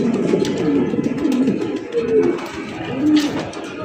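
Black Mundi pigeons coo in a loft, with several low, rolling coos that overlap and repeat close by, under a busy background murmur.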